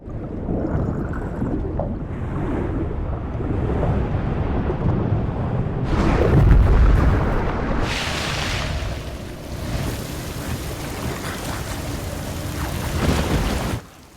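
A continuous roaring wash of rough, heavy water noise from huge storm waves crashing over a yacht, loud and close, surging louder in the middle and easing off before stopping abruptly.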